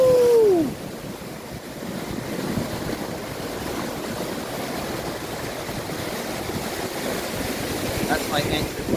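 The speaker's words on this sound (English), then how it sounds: "The sea is very rough today" Rough sea surf with strong currents roars continuously at the water's edge, heavy wind buffeting the microphone, waves crashing close by in a constant churning wash.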